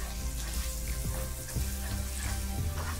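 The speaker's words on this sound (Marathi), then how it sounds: "मसाला परतून झालाय" Red chili powder, garam masala and turmeric masala sautéing in a pan on low heat for a Malvani oyster fry, a steady close sizzle with faint stirring scrapes and no voices.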